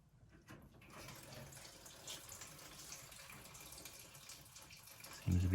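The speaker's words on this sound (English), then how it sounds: "So first step, I just got to drain the radiator." Water drains from a 1932 Chevy radiator through its petcock in a steady close splashing trickle, with a louder thump near the end.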